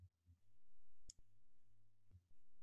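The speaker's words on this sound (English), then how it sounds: "So I'm gonna click on this video" A single sharp computer mouse click, faint and isolated against a quiet, low background hum.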